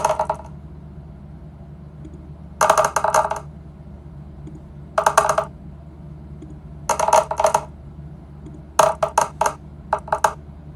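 Digital dice rattle in short bursts in D&D Beyond, five clattering rolls spaced a couple of seconds apart over a quiet background hum.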